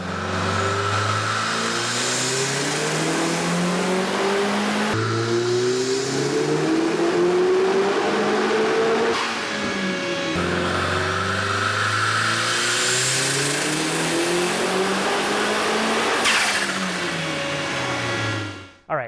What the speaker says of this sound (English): You can see the car already did a 448 wheel horsepower pull.